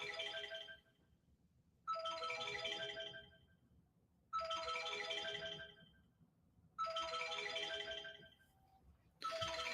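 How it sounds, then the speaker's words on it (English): A mobile phone alarm rings in repeating bursts of chiming tones, four or five cycles roughly two seconds on and short gaps between, fairly close and moderate in level with no talk. "I have to turn my alarm off on my phone."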